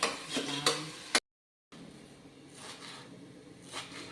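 Onions fry in hot oil for a biryani, a soft sizzle with stirring clinks, broken by a short silent gap before the frying resumes, quiet and close.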